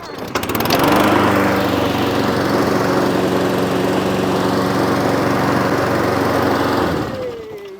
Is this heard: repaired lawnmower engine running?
yes